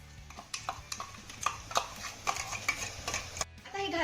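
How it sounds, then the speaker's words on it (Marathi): Roasted ground masala paste is being stirred into hot oil for a green-banana dish, with irregular scraping and clinking of a spoon against the pan, soft thuds and a faint sizzle underneath, recorded close up. "भाजलेलं वाटण आपल्याला तेलामध्ये चांगलं मिक्स करून घ्यायचं आहे"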